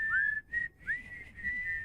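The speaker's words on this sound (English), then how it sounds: "I can't whistle high." A person whistling a high, clear tune up close, sustained pure notes with quick upward slides and a brief break between phrases, no talking.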